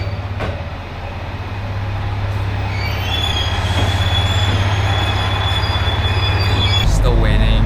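A train in Japan rolling along with a loud rumble, its wheels squealing in high sustained tones and faint clicks over the rails, close and continuous.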